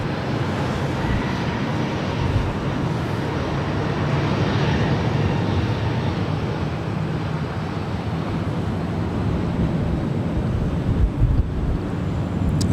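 An Air France Boeing 777-300ER taxis for departure at Los Angeles airport, a steady distant jet engine rumble blended with wind noise on the microphone, constant and unbroken, with no voices.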